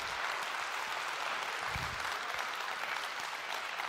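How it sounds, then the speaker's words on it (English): Steady applause from a large audience at a smartphone launch event, dense clapping sustained throughout at a moderate distance with no voices standing out. "if you can all just give one last round of applause to our team back there"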